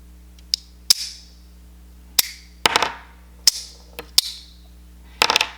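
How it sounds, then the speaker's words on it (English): Rounds are loaded into a Makarov pistol magazine as a series of sharp metallic clicks and snaps, about nine irregular close taps over a faint steady hum. "So let me just load 2 rounds for you guys"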